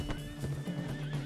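Horse in a video game whinnies, with clip-clopping hooves beneath; the neigh is sustained and fairly quiet, with repeated hoof thumps through the short stretch and no talking.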